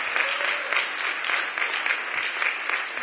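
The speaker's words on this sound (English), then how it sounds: "let's hear a round of applause for a wonderful day in Ward 4" A crowd at a Brightwood community affordable housing event in Ward 4 applauds, dense even clapping that holds steady and fairly loud from start to finish, with no voices on top.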